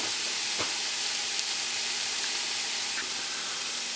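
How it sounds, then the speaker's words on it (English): Garlic sizzles in a pan as the base for a spaghetti meat sauce, a steady, even frying hiss with a few faint clicks and pops, alone and without talk. "I'll let that go for a few minutes, and just until that garlic starts to cook down a little bit"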